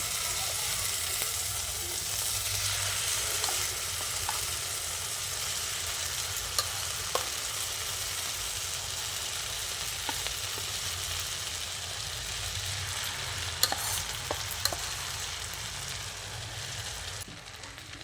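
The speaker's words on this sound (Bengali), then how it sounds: "গরম ঘিয়ের মধ্যে সাবুদানাগুলো দিয়ে দিচ্ছি" Sago pearls fry in hot ghee in a kadai and get stirred, giving a steady soft sizzle throughout with a few faint scraping clicks and no talk.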